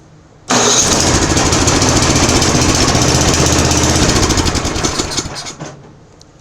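Murray PRO snowblower engine catches immediately after choke and prime, then runs loud and rough at about two-thirds throttle for several seconds before winding down and dying.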